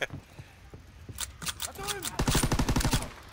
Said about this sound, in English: I don't understand how a light machine gun has 30 shots.